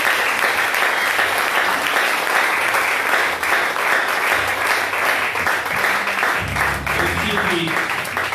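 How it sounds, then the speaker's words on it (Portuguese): A church congregation applauds loudly and continuously through the whole stretch, a thick wash of clapping with a voice and low background sounds underneath near the end. "Aplauda o Senhor."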